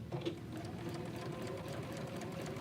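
A sewing machine runs steadily while understitching, a continuous close whirring hum with a fast mechanical stitch rhythm and no pauses.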